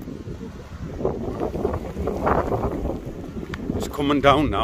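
Strong wind buffets the microphone on a beach, a loud rumbling roar that swells and dips while people talk over it.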